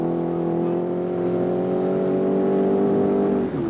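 A Triumph TR7 V8 rally car roars up a steep climb on the Mt Coot-Tha stage of the 1983 James Hardie Rally, its engine note loud and sustained as it accelerates and then briefly eases off at the end.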